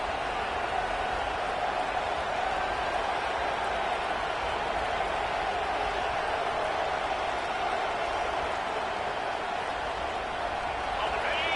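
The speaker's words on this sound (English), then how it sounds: "This crowd, full throat, splitting the eardrums" A football stadium crowd at a Clemson versus Michigan game roars in a steady, dense wall of cheering that fills the whole stretch, loud and continuous.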